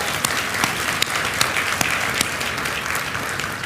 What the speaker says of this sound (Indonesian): mari sama-sama kita berikan aplaus yang luar biasa untuk Kak Lia